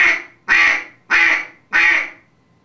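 A duck call blown with straight breath pressure across the reeds and no tongue quack gives four even, loud, nasal honking blasts in a steady rhythm, close and alone.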